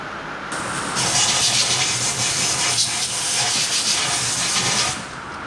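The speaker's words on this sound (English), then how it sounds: "The brake cleaner just kind of helps clean it" Brake cleaner sprays from an aerosol can onto engine parts of a Vauxhall Calibra during a service, clearing sticky antifreeze residue. A loud, steady hiss runs for about four seconds and then cuts off, with no talking.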